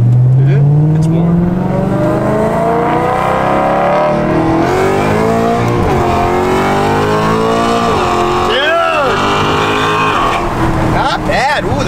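A Subaru STI, just repaired, accelerates hard on the road with a loud, rising engine roar that swells through shifts and revs for the whole stretch. Voices speak under the engine noise.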